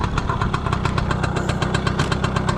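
A Chinese clone of the Piwi 80 motorbike idles with a rapid, even engine putter that stays steady and close for the whole stretch, with no talk over it.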